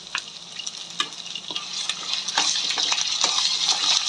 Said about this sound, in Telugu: ఇప్పుడు వీటిలోకి నేను ఒక టేబుల్ స్పూన్ వచ్చేసి అల్లం వెల్లుల్లి పేస్ట్ అయితే వేస్తున్నా